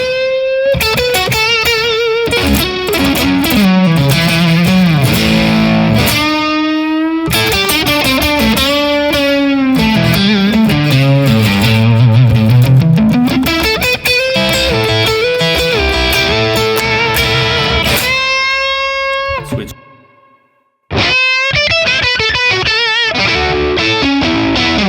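Loud distorted electric guitar through a Matchless Laurel Canyon amp capture, playing sustained chords and melodic runs, drenched in spacious reverb tails, with a brief silence before more notes ring out.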